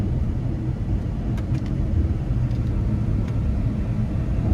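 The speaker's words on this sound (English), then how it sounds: "just how nice the exhaust sounds pair with this V8" A 2014 Porsche Panamera GTS with a V8 cruises along, its exhaust a low, steady rumble heard from inside the car, with no speech.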